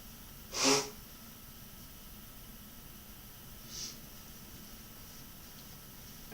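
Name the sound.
person blowing their nose into a tissue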